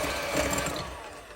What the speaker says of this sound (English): get out your hand mixer and get started